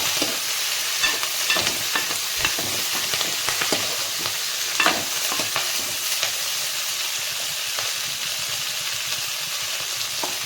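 Drumstick pieces and green chillies fry in a pan, a continuous dense sizzle crackling for the whole stretch with occasional stirring clicks, close and steady with no talking.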